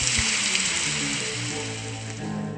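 Steady rain pours down in a garden-growing video game, a continuous even hiss that fills the clip from start to end with no voices over it.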